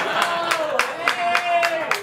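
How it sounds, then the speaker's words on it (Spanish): An audience at a year-end contest applauds a contestant with a steady beat of claps, roughly four per second, under a sustained tone and a voice. "Fuerte el aplauso para la señorita"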